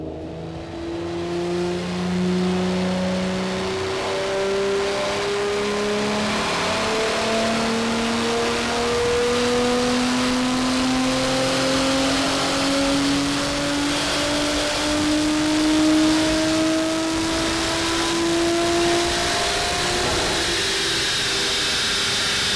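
Audi RS5 B9 fitted with hybrid turbos revving on a tuning run, its engine note climbing steadily in pitch through long pulls, close and continuous with no voices.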